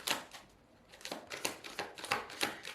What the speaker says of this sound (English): Let me give you a proper shuffle.